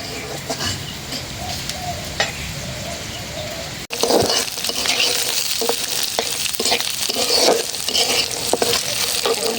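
Peanuts being lightly fried in a pan with greens for a sajna leaf bharta, a steady close sizzle that jumps louder midway as more goes in, with scattered crackles and stirring scrapes, no talk.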